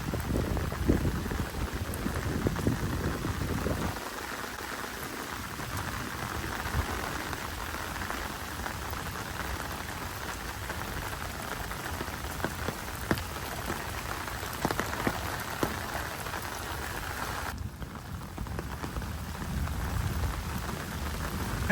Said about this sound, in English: We haven't had rain like this before